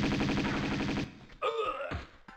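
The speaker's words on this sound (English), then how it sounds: "I guess I'll use the Uzis." Dual Uzis blazing in Tomb Raider 2, a rapid, loud burst of automatic fire for about a second, followed by sharper impact and effect sounds with no talking.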